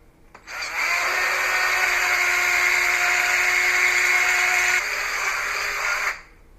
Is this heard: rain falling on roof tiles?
no